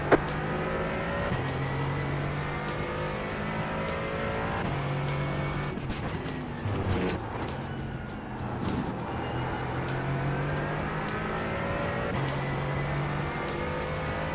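Race car engine in a sim racing game at Daytona, with an Audi among the field: a steady loud engine drone with gear shifts throughout, and a faster car roaring up and passing midway.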